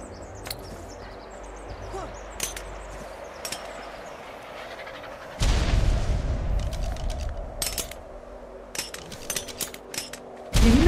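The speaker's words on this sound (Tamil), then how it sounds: "என்ன பாம்பு வெடிக்குது?" A single bomb explosion in the video game ARK Survival Evolved: a sudden, loud low boom that rumbles and decays for several seconds over faint background game ambience, followed by scattered clicks and a second burst at the end.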